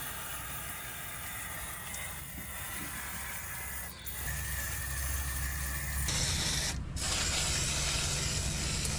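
A steady, close hiss of a gun applicator spraying rustproofing on a Honda Element runs throughout, with a brief break near the middle before it resumes louder.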